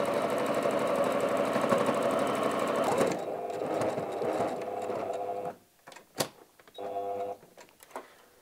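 A sewing machine stitches fabric for a tablet cover, a loud close steady whirring run for about five seconds, then short stop-start bursts as the needle is lowered and the work turned.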